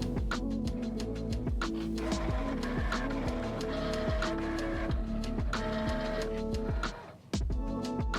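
A SINGER momento cutting machine works through a design on self-adhesive vinyl film, its motor whirring steadily with repeated rhythmic strokes and carriage movements, close and continuous for most of the stretch before a brief pause near the end.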